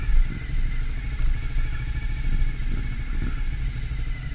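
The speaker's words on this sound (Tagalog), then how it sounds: "Ayun, meron niyang big bike" A big bike motorcycle rolls past on a mountain cross adventure ride, its engine a loud, steady rumble with clattering mechanical texture that swells and eases slightly as it goes by up close.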